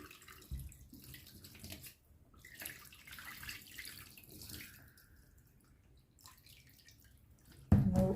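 Water runs from a tap while beef is rinsed and handled in a sink, with soft splashes and a louder clatter near the end.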